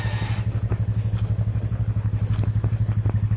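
A four-wheel-drive vehicle's engine chugs loudly and close, with a fast, even pulsing beat and a little clatter while it drives off after spinning its wheels.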